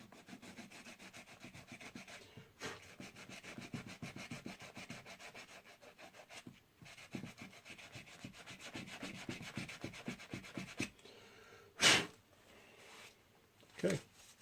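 Sandpaper rubbed back and forth along the glued edge of an old textbook's page block, a steady rasping scrape in quick repeated strokes, with a couple of sharper knocks near the end.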